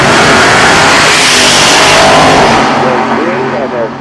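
Nostalgia drag cars, a four-window Corvette and a Studebaker, launch side by side at an NHRA Heritage Series race at Fontana, a loud roaring engine blast that fills the air and fades slightly as they pull away.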